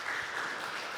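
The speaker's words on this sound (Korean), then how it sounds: "말씀 전해주신 정영아 목사님께 감사의 박수 한번 드리면 좋을 것 같습니다" Church congregation applauding in thanks for the pastor, a dense, continuous wash of clapping from many people, moderately loud and steady across the brief moment, with no voices over it.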